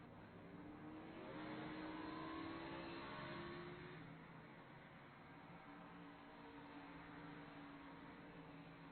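Race cars pull away from pit road in an iRacing Cup Series event, their engines droning and revving steadily at moderate distance, building briefly before settling into a continuous blended roar.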